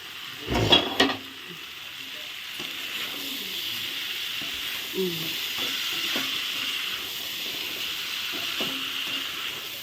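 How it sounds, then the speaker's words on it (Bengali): Cauliflower sizzling in oil in a home kitchen pan, a steady soft hiss with faint stirring scrapes and a couple of louder clatters near the start. "এখন আমি একটু ফুলকপিটা দিয়ে দিব"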